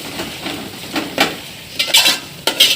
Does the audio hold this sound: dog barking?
no